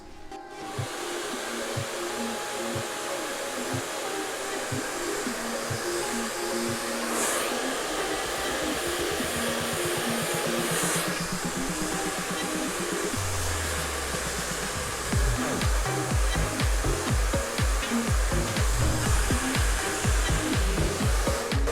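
Hair dryer blowing continuously up close while hair at the roots is dried with a brush, a steady loud whoosh with rhythmic brushing strokes and shifting airflow as the dryer moves.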